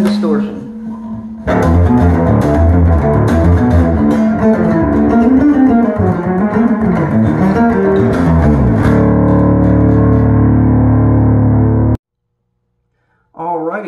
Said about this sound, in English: And then to top it all off, you want to get a little crazy, it's got built-in distortion.